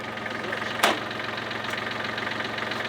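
A farm tractor engine runs steadily close by, with a continuous low rumble and one short clunk early on. No speech stands out over the engine.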